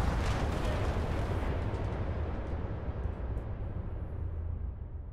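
Heavy gunfire in the space role-playing game Starfield makes a dense, continuous roar of blasts aimed at the player, loud and unbroken throughout.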